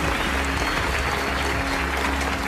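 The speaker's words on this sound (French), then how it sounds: "Il raffole de vos applaudissements." An audience applauds at a show as a performer shows off a trick, producing a dense continuous wash of clapping that stays loud and even, with a low steady hum underneath.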